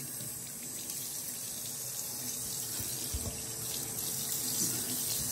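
Tap water runs steadily into a sink during a beard rinse, a continuous close splashing hiss with no talking.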